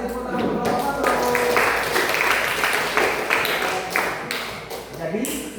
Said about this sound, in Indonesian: Kasih tepuk tangan untuk Bapak Pato.